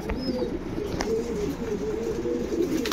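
Pigeons of a loft kept for sale in Bangalore coo in soft, repeated low rolling calls, nearby and continuous, with a few faint chirps and light background noise.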